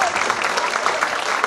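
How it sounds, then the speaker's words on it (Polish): An audience applauding at a village event, dense continuous clapping from a crowd at close to moderate distance. "a teraz mogą być brawa dla mnie"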